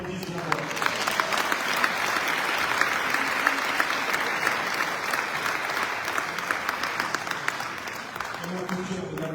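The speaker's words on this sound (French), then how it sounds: "vous devez l'applaudir bien fort" An audience at a disability, sport and work congress at UNESCO in Paris bursts into loud, sustained applause, a dense wash of clapping that fills the whole stretch at steady strength.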